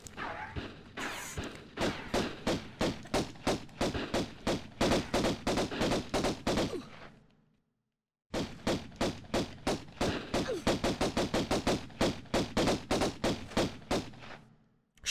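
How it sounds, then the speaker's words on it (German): In the video game Tomb Raider 1, gunfire is aimed at the player as rapid, rhythmic bursts of shots. They stop briefly near the middle, then resume as steady repeated volleys. "wir werden beschossen."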